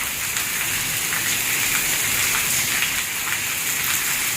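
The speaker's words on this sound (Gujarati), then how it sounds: "આ ચોમાસાનો આ પહેલો આવો વરસાદ આવ્યો" Heavy first monsoon rain pours down in Rajkot during a lightning storm, a dense, loud, continuous hiss of drops on surfaces with no voices over it.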